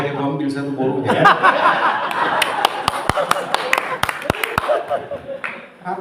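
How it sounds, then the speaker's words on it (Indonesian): Congregation members at a synod assembly sermon on Samosir Island clap in scattered, sharp bursts while a preacher talks and people chuckle; the claps come as loud isolated smacks mixed with laughter. "Apa maksudnya tepuk tangan ini?"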